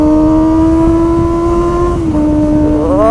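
A big motorcycle of 250 cc or more holds a loud, steady rev, briefly drops at about the two-second mark, then climbs again in pitch as the throttle opens, with no talk over it.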